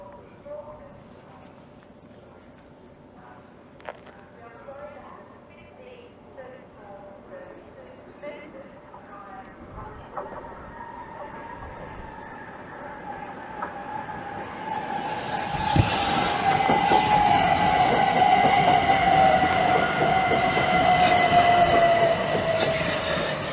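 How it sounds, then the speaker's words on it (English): Class 375 electric train 375614 on the Victoria service pulls into Gillingham station on the Chatham Main Line, rumbling in from quiet to loud with squealing wheels and a rising whine, while someone talks at times. "And the Victoria service is now arriving in."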